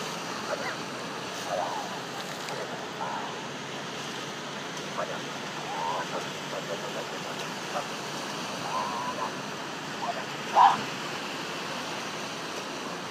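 Floodwater from an overflowing sewer on Kalvariyskaya Street in Minsk makes a steady, faint, broad rushing wash, with muffled voices in the background.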